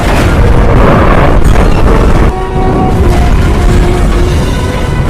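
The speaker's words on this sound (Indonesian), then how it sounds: "melesatkan sebuah roket launcher di mana ledakan tersebut mengakibatkan seluruh pelabuhan hancur" A rocket launcher explosion destroys a harbor in an action film, a loud, roaring boom with rumbling debris that drops off abruptly and is followed by a sustained, lower roar.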